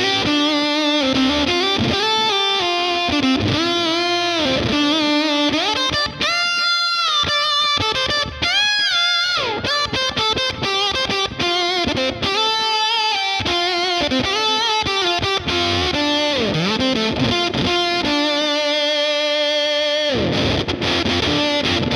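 A fuzzy, distorted electric guitar through a Bad Machine Fuzz pedal plays a lead melody with bends and sustained notes, washed in amp-plugin reverb and echoing delay, loud and continuous.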